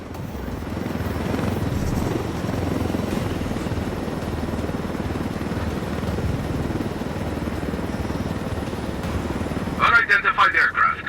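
A helicopter in Ghost Recon Wildlands: a steady, dense rotor and engine drone runs continuously and loud, with a voice speaking over it and a brief burst of rapid chopping near the end.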